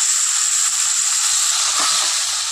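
Karamcha pickle sizzles steadily in a hot pan as turmeric goes in, a continuous bright frying hiss with faint low stirring scrapes underneath, close and loud throughout.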